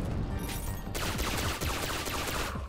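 Rapid bursts of explosions in the video game Mighty Aphid 2, a dense crackling barrage of blasts that turns heavier partway through and continues steadily, loud and close.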